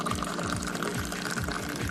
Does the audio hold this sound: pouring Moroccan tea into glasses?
yes